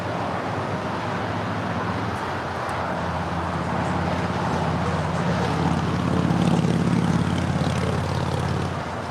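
Alaska Airlines jet departing LAX, a distant steady engine roar that swells slightly toward the end, with no talk.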